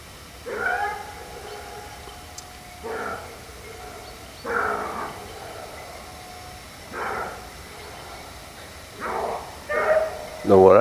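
Several bursts of distant grand basset bleu hunting dogs barking and baying on a hare hunt come at irregular intervals, each a short cluster of yelps, growing a bit louder near the end.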